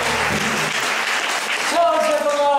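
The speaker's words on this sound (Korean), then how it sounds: "여러분들의 귀한 박수도 받고 했으니" Audience applause at a Korean traditional music performance during a university music workshop, a dense wash of clapping that continues steadily while a sustained instrumental tone enters near the end.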